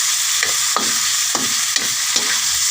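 Mung beans and tomatoes cooking in a pan as balatong, with a steady loud sizzle and several distinct stirring scrapes spaced through the clip, no talking.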